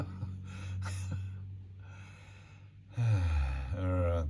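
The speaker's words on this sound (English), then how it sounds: "Practice that breathing." Slow breathing in and out during a guided meditation, close and audible: a soft inhale, a pause, then longer exhalations carrying a low voiced tone, with a steady low hum underneath.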